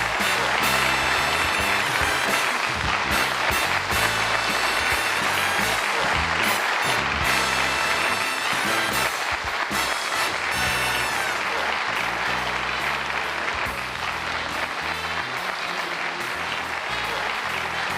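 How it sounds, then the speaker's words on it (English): A studio audience at a late-night comedy talk show applauds loudly and steadily for the full stretch, a dense sustained roar of clapping with no voices breaking through. "I'm humbled by that applause."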